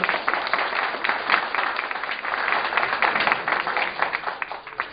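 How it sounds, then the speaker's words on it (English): A panel discussion audience claps for the panel members at a career development event, giving a steady, moderately loud wash of many hands that holds for the full five seconds with no voices on top. "I would like all of you to give a big applause to all our panel members"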